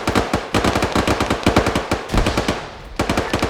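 Rapid automatic gunfire in the video game ArmA 3, loud close bursts of shots in quick rhythmic strings with brief pauses between volleys, no talking.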